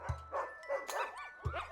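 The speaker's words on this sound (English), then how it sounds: "Oh, Barry, all the dogs are barking now." Several dogs bark and yip in quick, uneven bursts, close and fairly loud, with whimpering tones between the barks and no talk over them.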